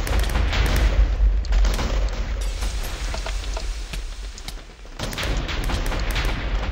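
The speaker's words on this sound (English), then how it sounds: "He's got the kinetic gun" The kinetic gun in Hypixel Minecraft fires a rapid series of booming shots with a crackling, rain-like texture, constant and fairly loud, with a brief lull before the firing picks up again.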